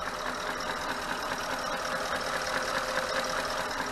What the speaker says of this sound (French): On va en profiter pour faire une petite vidéo du bruit du moteur.